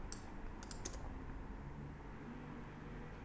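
Short run of keyboard typing as a word is entered into a text field in Premiere Pro: a handful of quick key clicks in the first second, fairly faint, then only a steady background hiss.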